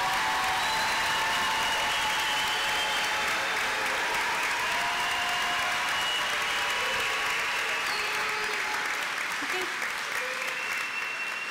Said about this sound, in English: Round of applause for these graduates